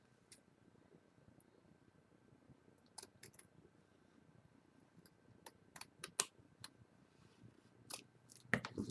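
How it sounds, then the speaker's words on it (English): Scissors snip paper while making envelope pockets for a baby journal, a scattering of quiet, crisp cuts that grow more frequent toward the end, with no talking. "they're not the right scissors to cut with"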